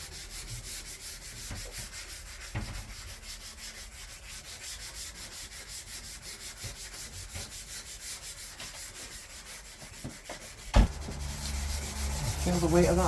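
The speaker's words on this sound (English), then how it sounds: "Now Liam's just going over with some wet and dry," Wet-and-dry sandpaper rubbed by hand over a car body panel on a Vauxhall Corsa SXi, a soft continuous rasping scrub with steady strokes, a sharper knock and louder rustling near the end.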